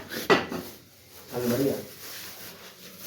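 Dishes and pots clatter together in a kitchen: a sharp knock, then a softer rattling scrape a second later, fairly close and moderate in level with faint room noise.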